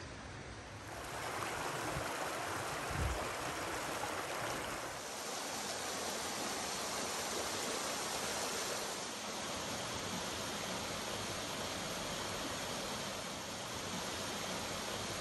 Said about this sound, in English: A long flume transports water from Hamer Cave